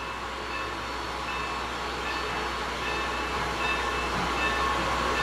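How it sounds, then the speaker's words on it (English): A locomotive on the Strasburg Railroad moves along the track at Christmas time, a loud, steady rumble and hum close by with no talk. "they're getting ready to move the locomotive to the other end of the train."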